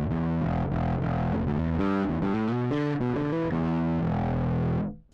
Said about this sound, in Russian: Вот так вот у нас полностью отсутствует чистый звук